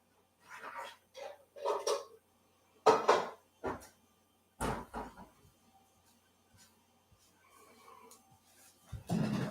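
A big glass Pyrex dish is lifted out and handled in a kitchen, producing a scattered series of sharp clinks, knocks and scrapes separated by quiet gaps, close and moderately loud.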